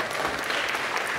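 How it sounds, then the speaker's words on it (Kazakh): Audience applause at a live Kazakh stand-up comedy show in Almaty, a dense steady patter of many hands clapping throughout, moderately loud and continuous with no pause. "Шапалақтарыңыз"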